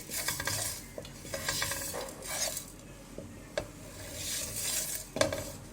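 Kebab spice ingredients dry roasting in a pan on a stovetop over low flame, with repeated stirring scrapes and light clinks of a utensil against the metal pan, steady and close with no talking.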